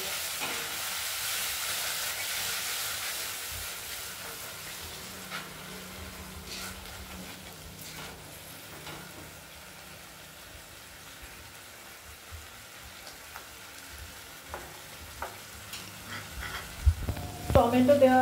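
Fresh tomato paste fries and sizzles in a spice masala for a rohu fish curry, a quiet, steady crackle of oil with occasional stirring scrapes and a louder clatter near the end, under soft talk.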